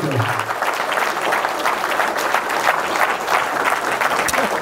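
An audience at a community speaking event applauds a man being welcomed onto the stage, producing a continuous, loud wash of clapping that holds steady for several seconds.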